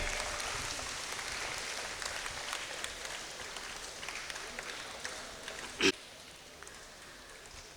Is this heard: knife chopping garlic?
no